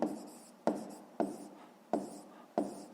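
A pen scratches across paper while a math exercise is worked out, in five distinct strokes spaced about half a second apart, each starting sharply and then trailing off, close and quiet.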